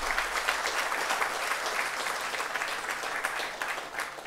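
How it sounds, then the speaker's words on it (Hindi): An audience claps steadily for a guest at a Prabodhini Day event in India. The dense, even applause fills the whole stretch at moderate loudness without easing off. "जोरदार तालियां उनके लिए बजनी चाहिए"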